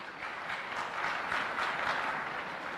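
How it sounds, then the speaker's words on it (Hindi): An audience at an SSB mentoring session bursts into steady, sustained applause, a dense wash of clapping from many hands at moderate distance. "एक बार सबरवाल सर के लिए जोरदार तालियां हो जाए।"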